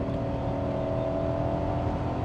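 A modified BMW 740iL engine in sport mode drones loud and steady under hard acceleration, a close, continuous rumble with no speech.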